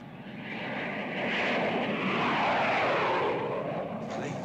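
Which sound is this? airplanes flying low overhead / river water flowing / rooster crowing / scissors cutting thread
airplanes flying low overhead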